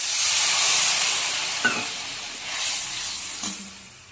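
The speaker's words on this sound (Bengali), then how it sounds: "এবার একটু জল দিয়ে দিচ্ছি।" A splash of water hits hot fried spice masala in a pan and sends up a loud, broad steam hiss that slowly fades, with two faint utensil knocks along the way.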